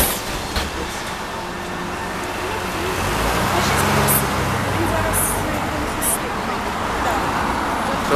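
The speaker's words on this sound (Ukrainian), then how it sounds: "Тролейбус відправився" Trolleybus pulling away from a stop on a Kyiv city street, a low electric hum and rolling rumble swelling over traffic noise, with people talking nearby.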